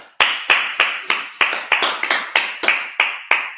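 A Sabbath service congregation claps in unison, about a dozen sharp, evenly spaced claps at a brisk rhythm, loud and close with no talking.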